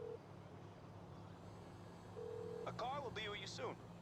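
Phone keypad dialing to call a taxi in GTA Online: a short series of quick electronic tones near the end, preceded by a brief beep, all quiet beneath a low engine hum.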